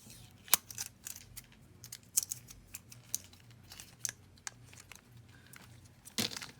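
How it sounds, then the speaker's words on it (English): A thin plastic film peeling off a smartwatch magnetic charger, quiet close crinkles and small sharp ticks scattered over a few seconds, with no voices. "it does just take this piece of plastic off"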